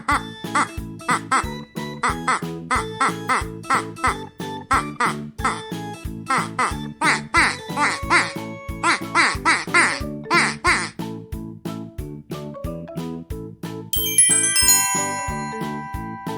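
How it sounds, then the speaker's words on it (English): A duck quacks over and over in quick rhythmic bursts, loud and close, set to a bouncy children's music backing that ends with a bright chime. "Duck."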